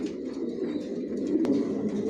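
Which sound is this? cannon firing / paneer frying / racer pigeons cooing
racer pigeons cooing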